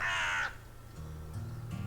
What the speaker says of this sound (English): I wonder, does this just summon a crow here? Yes, it does.